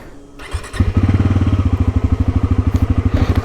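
A Bajaj Pulsar NS400Z motorcycle engine cranks and catches on its first start of the day, then settles into a steady, loud, rhythmic idle with a deep pulsing note from its underbelly exhaust.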